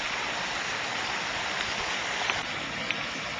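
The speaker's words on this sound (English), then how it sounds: "I'm starting to drain this tank" Water drains from a tilapia breeding tank with a steady, rushing gush, close and continuous, joined by a couple of faint clicks and no voices.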